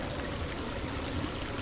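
Steady rush of water from a pump blasting into a flooded street drain in Drain Sim, a continuous, even gushing with no pauses.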